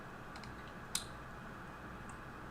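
Computer keyboard clicks, a few light taps followed by one sharper keystroke and a faint click later, quiet and fairly close over a steady room hum.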